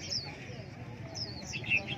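Chirping calls of a red-whiskered bulbul kept as a decoy bird at a bird market, faint high tweets repeating over a busy murmur of crowd noise and nearby voices.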